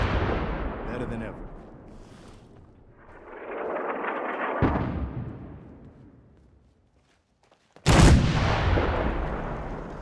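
Artillery fire in the game Fallout 4 arrives in several heavy blasts and rumbling explosions, with a loud new impact late on after a brief lull, and a voice speaking between the strikes.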